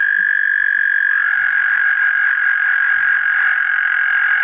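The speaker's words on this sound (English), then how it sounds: "It's a bunch of tree frogs." A dense chorus of tree frogs croaking in a steady, continuous buzzing drone, loud and close, with a few faint low thumps underneath.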